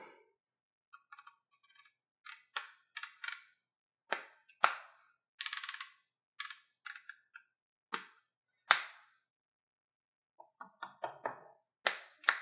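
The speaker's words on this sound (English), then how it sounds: "Let's check the windage turret too." Windage turret on a Gen3 6-36 rifle scope being turned, producing sharp, crisp clicks in quick irregular clusters separated by brief pauses, close and clear against silence with no talk.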